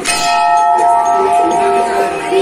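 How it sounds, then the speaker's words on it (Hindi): A temple bell at a crowded fair rings out with bright, sustained metallic tones that shimmer and decay over a couple of seconds, loud and close. "और यहाँ पर घंटी लगी है,"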